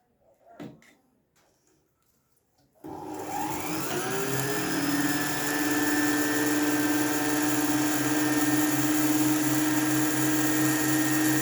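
Singer Felicita sewing machine motor winding a bobbin at high speed, a small click and brief handling noise, then a steady whirring hum that starts abruptly and holds close and even for several seconds.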